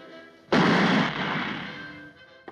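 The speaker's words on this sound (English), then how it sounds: "He shoots the man trying to arrest him for treason." A single loud gunshot rings out in a World War Two film scene, a sharp blast followed by a long, fading rumble and echo, with a faint short knock near the end.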